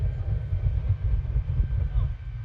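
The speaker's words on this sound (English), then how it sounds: "Listen to those jet engines. Yes, jet engines on the back of a truck." Jet engines mounted on the back of the Hot Streak jet truck at an airshow give a heavy, continuous low roar with a rough, pulsing rumble, the truck close by and loud with voices mixed in.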